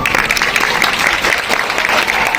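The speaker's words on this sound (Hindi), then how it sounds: "तालियां तालियां" Loud, dense applause from a crowd at a Ram Katha university function at Astana Medical University, steady clapping throughout the short stretch.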